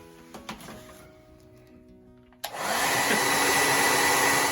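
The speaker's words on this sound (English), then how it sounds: "Grab a hairdryer. You're gonna put this in the hole and turn it on." Quiet shuffling gives way to a hair dryer switching on with a sudden click, then blowing with a steady loud whoosh as it cooks chicken wings.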